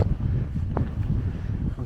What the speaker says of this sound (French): Je ressens un peu moins le vent ici.